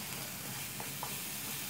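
Kachri chutney sizzles and fries in oil in a pan, a steady dense crackle with a couple of soft pops, no talking.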